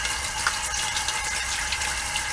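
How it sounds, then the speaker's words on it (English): Water gushes steadily from a tap, rinsing out a SunSun under-tank aquarium filter tray, with a continuous close splashing hiss and no talk. "but I'm gonna rinse the whole tray out itself."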